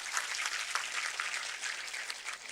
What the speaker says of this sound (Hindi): उनके लिए ताली बजाना कभी कभी।